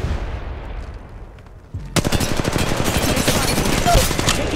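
Sustained rapid automatic gunfire in the mobile battle royale Apex Legends Mobile, starting abruptly after a quieter stretch and continuing loud and dense, with bursts overlapping to the end.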